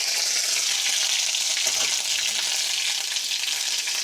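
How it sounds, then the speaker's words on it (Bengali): Ginger garlic paste frying in hot oil in a wok, a loud, dense, continuous crackling sizzle close by throughout. "আদা রসুন পেস্টটা দিয়ে এবার আমি ভেজে নেব।"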